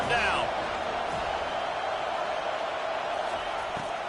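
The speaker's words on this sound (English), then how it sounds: "Decibels rising as the crowd gets behind this defense on 3rd down" A football stadium crowd roars at a steady, loud level during a third-down defensive stand in a Florida State versus Georgia Tech game, with a broadcast voice speaking briefly over it at the start.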